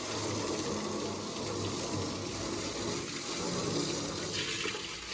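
Water is poured in to fill and settle a space during building work. A continuous, even gush of flowing water runs close and moderately loud throughout, with no talk.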